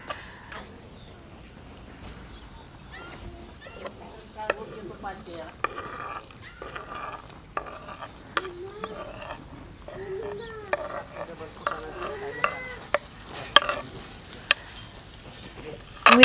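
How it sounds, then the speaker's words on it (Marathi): Green chillies dropped into a hot oil tempering with turmeric, crackling and sizzling with scattered sharp pops, moderately loud under a voice explaining the steps. "आणि या तयार झालेल्या फोडणीमध्ये आपण टाकणार आहोत मिरची."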